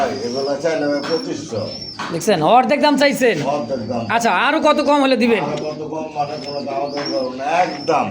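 Large Gopalganj pigeons coo at a bird market, soft repeated coos and bird calls running beneath close, continuous bargaining talk between men.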